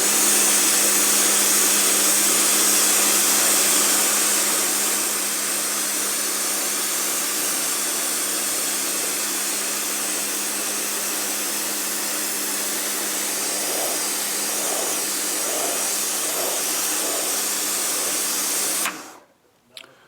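A Karcher K2 Power Control pressure washer sprays a dirty slab on its hard setting, giving a loud, steady hiss and motor whine that runs almost unbroken before cutting off abruptly near the end.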